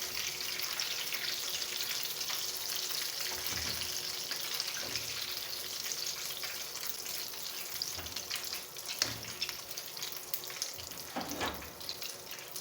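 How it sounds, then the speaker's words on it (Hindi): Potato lollipops fry in hot oil, giving a steady, dense sizzle that runs unbroken throughout, with faint occasional clinks and no voices. "ये देखिए इस तरीके से मैं बाकी भी फ्राई कर लूँगी।"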